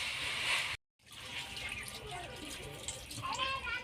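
Water pours into a young jackfruit curry in a cooking pot, a faint splashing and trickle broken by a brief cut, then continuing with soft bubbling and liquid sounds.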